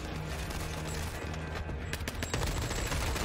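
Dense game gunfire from Call of Duty DMZ, several automatic weapons firing continuously and overlapping in a loud fusillade, with sharper bursts near the end and no talk.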